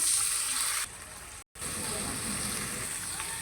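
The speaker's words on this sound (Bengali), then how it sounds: "এখন পানি দিয়ে কষিয়ে নেব" Water is poured into spice paste frying in a pan, turning a bright, hissing sizzle into a rougher, bubbling sizzle, with one short break, all close and steady.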